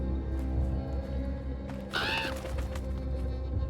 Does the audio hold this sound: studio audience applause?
no